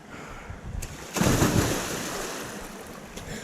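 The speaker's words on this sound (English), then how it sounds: "It was a fair bit of splash." A person plunges into the water of a bush gorge in Ettrema Gorge, NSW: a sudden broad splash surges up partway through, then a washing, churning tail slowly settles, with outdoor wind and water ambience before and after.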